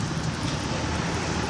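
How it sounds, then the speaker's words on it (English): Tow truck wreckers drive past a car crash scene with a power outage, a brief, loud, steady roar of heavy road vehicles passing close by. "the wreckers are running by"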